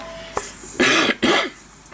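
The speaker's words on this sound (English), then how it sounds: "Still got a bad cough." A man in a workshop gives a single short cough followed by two harsh, close throat-clearing bursts, loud against a quiet background.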